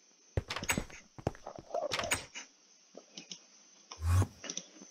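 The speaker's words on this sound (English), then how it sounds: "Okay, I'm gonna make a door" Wooden door placed in Minecraft, heard as a short run of sharp clicks and knocks with a louder thump near the end, close and fairly loud over a steady faint background hum.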